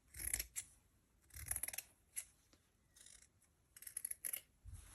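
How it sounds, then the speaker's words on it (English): Scissors snip through excess fabric from an old jacket being made into a bag, several quiet crisp cuts in short clustered bursts separated by brief pauses, close and alone with no talk. "So I'm going to trim off some of that excess fabric there"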